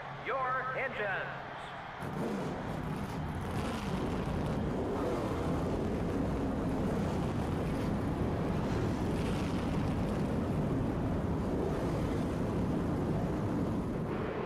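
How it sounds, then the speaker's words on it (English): Race car engines firing up in the NASCAR Thunder 2000 video game: a loud, dense, continuous roar that swells after a brief opening moment and holds steady to the end. "Gentlemen, start your engines."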